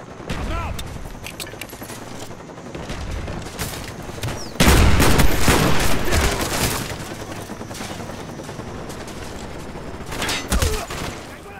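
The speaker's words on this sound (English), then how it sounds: "Enemy SAM turret inbound." An enemy SAM turret fires in a video game. Dense crackling volleys and heavy bursts come thick and loud, with a louder surge partway through, amid constant battle noise.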